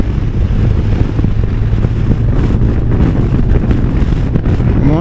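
Strong wind roars steadily across the microphone while riding a heavy 750-pound motorcycle, a loud, constant buffeting rush with broadband gusts and a low rumble, no voices.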